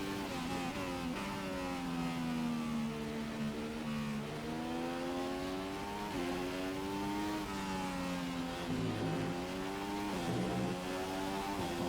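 Formula One race car engine in the F1 2015 racing game at the Belgian Grand Prix, loud and continuous, whining up and down through gear changes as the car accelerates and brakes.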